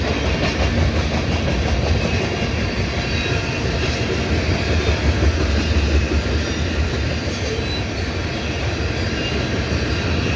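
A CN mixed freight train of gondolas and tank cars passes Dorval, a loud continuous rolling roar and rumble of wheels held steady and close throughout, with no voices.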